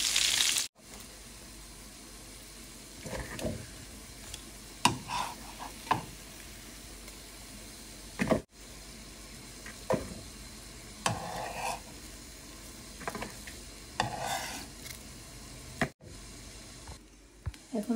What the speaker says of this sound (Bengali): এই ছেড়ে মাছ ভেজে নিচ্ছি।